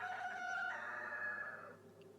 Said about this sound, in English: The cockerel wanted to join in